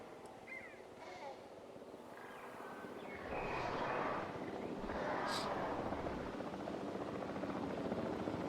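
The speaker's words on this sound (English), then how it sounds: "Come on, helicopter, get a move on." Helicopter in the video game Jurassic World Evolution 3, a steady rotor roar that swells louder after a few seconds and holds, with faint game ambience and bird caws over it.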